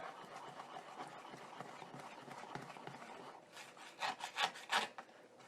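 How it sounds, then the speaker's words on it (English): Waffle batter is whisked by hand in a bowl, a close scraping, rubbing rhythm that grows into sharper, louder strokes toward the end, with no talking. "Now it says to whisk all this together until smooth."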